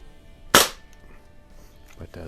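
One sharp, loud crack from a Crosman 2240 air pistol built as a Buck Rail carbine, fired at a 7-yard range, then quiet handling noises.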